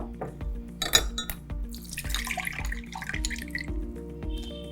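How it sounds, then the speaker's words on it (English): Water from soaked cashews drains through a strainer in a kitchen, a steady trickle with a few drips and small clinks of metal or glass, close by and moderately quiet, with no one speaking. "We need to strain out the water."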